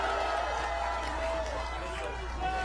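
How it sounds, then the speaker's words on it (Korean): A crowd at an outdoor election campaign rally in Michuhol-gu, Incheon, claps continuously: a broad, even wash of applause at moderate level with a murmur of voices mixed in, steady from start to end. "큰 박수 부탁드립니다."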